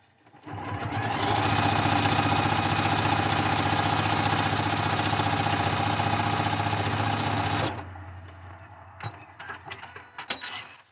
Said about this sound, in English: bring it right over to the sewing machine